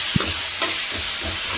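Tomatoes frying in a hot pan with a steady loud sizzle, broken by a few soft scrapes and knocks of the spoon as they are stirred.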